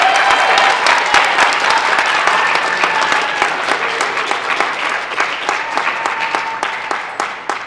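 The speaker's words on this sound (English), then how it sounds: "Please join in giving them a well-deserved round of applause." Audience at a high school National Honor Society induction ceremony gives sustained, loud applause, a dense wash of clapping with distinct individual claps, slowly thinning toward the end.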